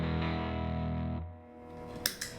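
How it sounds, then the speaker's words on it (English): A sustained electric guitar chord growls through heavy distortion from a Tony D Classic 70's Fuzz pedal, then cuts off and rings down before two sharp picked notes. "You can hear the fuzz or the distortion coming in."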